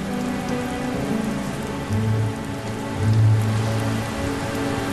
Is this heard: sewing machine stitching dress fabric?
no